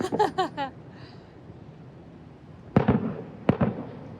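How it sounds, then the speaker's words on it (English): Fireworks going off at a show near Central Park in New York, a crackling burst at the start, then two sharp booming explosions later, heard from a short distance. "a fireworks show just started going off"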